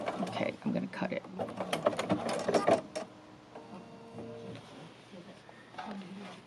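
A Bernina sewing machine fitted with a walking foot stitches through fabric in a close, rapid mechanical run for about three seconds, then fades to a quieter hum with faint room noise.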